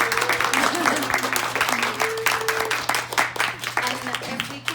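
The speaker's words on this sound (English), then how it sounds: "So I just want to give like a huge round of applause to these ladies." A panel audience at an adult industry event claps in steady, dense applause, loud and close, with voices mixed in.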